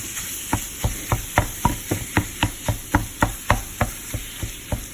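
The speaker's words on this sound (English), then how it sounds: "You want to brown the meat, and you want to continue to break it up." Ground beef browning in a frying pan while a utensil breaks it up: a steady sizzle underneath a regular series of sharp scraping knocks against the pan, about three per second, close and fairly loud.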